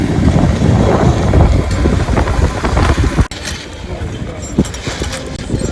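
Strong wind on a ski slope buffets the microphone in loud, continuous rumbling gusts, with a sudden dip partway through before the roaring resumes.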